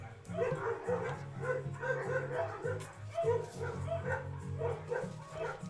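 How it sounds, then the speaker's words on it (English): Several dogs barking in a steady, continuous stream of yips and bow-wows, fairly close and overlapping, with a whimpering quality at times, with no break throughout. "It's just perpetual dogs barking all the time."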